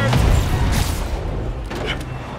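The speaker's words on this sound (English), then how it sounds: "Report the gunfire!" A burst of loud video game gunfire from Spider-Man Remastered opens the clip, followed by booming impacts and scattered shots, dense and close.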